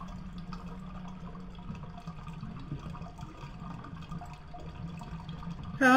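A toilet flushing in the horror video game Death Flush: a low, steady rush of water runs continuously at moderate level, ending with a brief louder burst.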